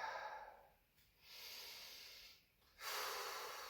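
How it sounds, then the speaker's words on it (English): Slow, soft breaths during a gentle yoga standing pose: a hissing inhale, a pause, a longer exhale, then another rising breath, close and quiet, with no talking. "Just take a couple inhales and exhales here."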